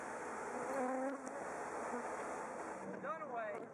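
Bees swarming and buzzing around a weak hive under attack in an outdoor bee yard, a steady faint drone with wind, a voice talking over it.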